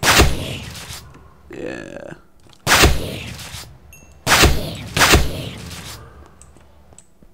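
A shotgun fires in the Minecraft mod Crafting Dead, with four loud, sharp blasts spaced a second or two apart, a brief spoken word between the shots.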